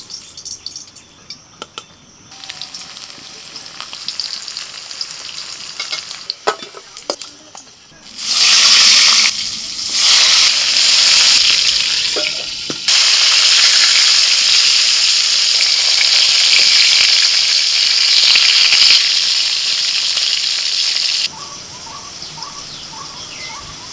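Pointed gourd frying in hot oil in a home kitchen, a loud steady sizzle that swells and cuts off in bursts, with quieter clinks and rustles between.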